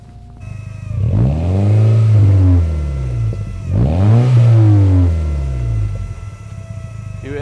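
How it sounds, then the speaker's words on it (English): A Porsche GT4 with a suspected faulty fuel pump runs with a loud, close engine-like drone that swells and falls twice in long sweeping rises, with no talk over it. "I'm going to put the microphone outside now and let you lot listen to the fuel pump"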